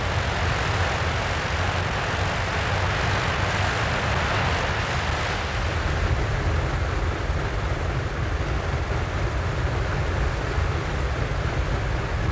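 Four propeller engines of a B-29 bomber run steadily on an icy, snowy airfield in Greenland, a constant dense drone filling the whole stretch at even loudness, with no voices.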